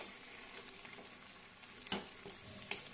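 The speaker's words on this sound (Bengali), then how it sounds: "এবার ভালো করে নাড়াচাড়া করে নিচ্ছি" Radish and poppy-seed paste cooking in a pan, a faint low sizzle with a handful of soft scrapes and taps as a spoon stirs it, quiet and close.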